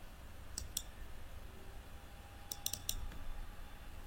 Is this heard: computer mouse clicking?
yes